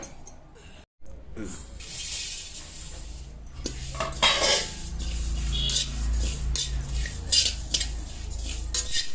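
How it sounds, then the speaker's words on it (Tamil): Roasted poppy seeds poured out of a pan in a hotel-style masala-making kitchen: a soft scraping and rustling pour with light metallic scrapes against the pan, over a low steady hum, with a voice talking at times. "கசகம் நல்லா வறுத்தாச்சு இப்போ எடுத்து அதை கொட்டிக்கலாம்"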